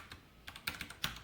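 Keys tapped on a computer keyboard while writing Spring Boot code, a few soft scattered clicks that cluster into three brief bursts near the end, quiet and close with no talking.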